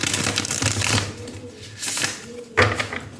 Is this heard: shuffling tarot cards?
yes